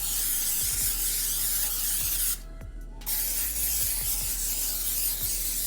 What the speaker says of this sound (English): I'm gonna take this coconut spray and spray down these dishes.